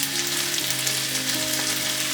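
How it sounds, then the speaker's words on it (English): Beef stir-frying in a pan gives a steady, close sizzle and crackle that runs without a break, with no voices. "Stir fry the beef around 5 minutes until the beef color change"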